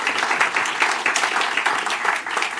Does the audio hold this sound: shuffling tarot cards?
no